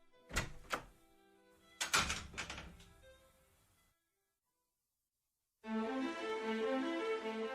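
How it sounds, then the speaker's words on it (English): A door opens with a couple of knocking thunks and a creak, then slams shut with a heavy bang and rattle in a radio drama, followed by silence and then a sustained musical drone. "A door opened and shut."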